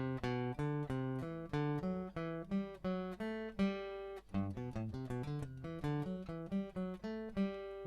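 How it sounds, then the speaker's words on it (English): A melodic instrument plays a scale in thirds, stepping up and down in a steady rhythm of clear, evenly spaced notes, alone and fairly quiet. "it's jumping about the scale, and that's what you call playing in thirds"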